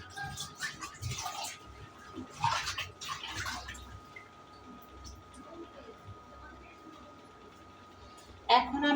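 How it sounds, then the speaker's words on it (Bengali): Water splashing and trickling as a white cloth is soaked for steaming pitha, intermittent soft sloshes near the mic while someone talks, with a bird cooing faintly in the background. "আমি এইটাকে এখন আমি এই কাপড়টাকে সুন্দর করে একটু ভিজিয়ে নেব"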